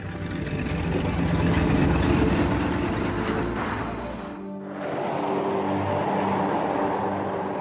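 A car engine runs steadily and loud, rumbling low, then briefly dips quiet before resuming as the vehicle pulls away, with no voices present.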